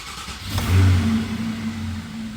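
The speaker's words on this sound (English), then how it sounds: "The minute I start driving this 911" A Porsche 911's naturally aspirated engine revs up and accelerates while driving, a steady mid-pitched drone swelling then holding, close and fairly loud.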